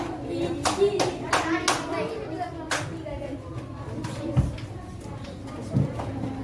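A classroom audience claps for a student group after its presentation in a teacher training session, scattered hand claps rising in short bursts over a murmur of voices and room noise.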